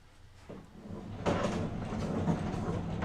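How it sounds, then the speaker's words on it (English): A room door in a home office being pushed shut, a soft thud about halfway through followed by a louder rumbling slide and latch, close by over steady background noise. "I gotta close my door."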